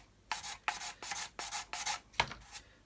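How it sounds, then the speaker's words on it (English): Coarse sanding stick rasping off the antennae of a plastic model, six short scraping strokes in an even back-and-forth rhythm, close and fairly quiet with no talk. "I'm just going to sand them off"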